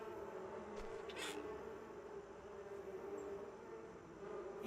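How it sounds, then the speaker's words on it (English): Bees buzzing in the farming video game Farmer's Life: a faint, continuous droning hum that fills the scene without letup, with one brief brighter rustle near the start. "I can't hear anything now over the bees."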